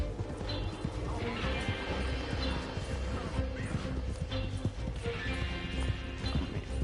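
In the Red Dead Online game, a big bright white horse clip-clops along in steady hoofbeats amid busy game ambience and clattering, with someone talking over it.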